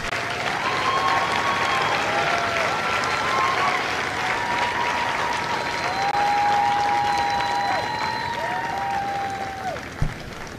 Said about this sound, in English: Ladies and gentlemen, please join me in a round of applause for the company staff of Company A.